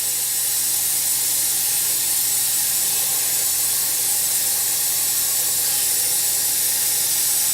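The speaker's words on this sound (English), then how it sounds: "And then I'm just gonna add water. And I'm gonna pretty much fill up this Instant Pot" Tap water pouring steadily into an Instant Pot for vegetable broth, a constant bright hissing rush with no pauses, close and even throughout.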